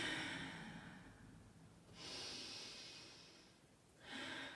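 Slow, quiet breaths during a yoga practice, drawn in and let out in long soft rushes of air, close and gentle, two clear breaths after a fading exhale, with no talking.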